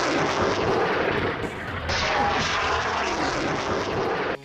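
Rockets launched by a fighter in the Gaza war, a loud sustained roaring rush with a brief dip midway, then a second surge that cuts off abruptly at the end.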